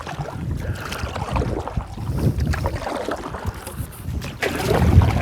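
Headwind gusting around a canoe on open water near a pier, a steady loud rumbling buffet of wind across the microphone with water sloshing against the hull, continuous and close, no talking.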